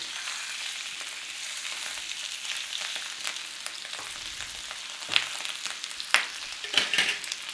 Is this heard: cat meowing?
no